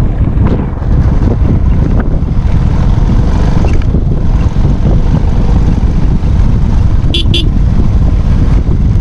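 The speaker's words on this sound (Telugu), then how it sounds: "మట్టి రోడ్లు కదా, బైక్ అనేది షివరింగ్ ఎక్కువ అవుతుంది" A TVS XL 100 moped rides along a dirt road with a close, constant engine drone, heavily buffeted by wind noise throughout.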